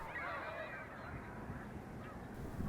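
Geese honk in a bulrush marsh at Lac-Saint-Pierre, Québec, a dense overlapping chorus of calls at moderate distance, continuous without pause.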